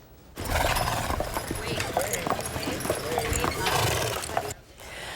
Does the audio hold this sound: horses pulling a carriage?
yes